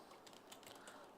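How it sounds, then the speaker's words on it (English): Brief burst of computer keyboard typing into a chat, quick soft key clicks in a short close run, faint and alone. "Chat, I'm going to type in now."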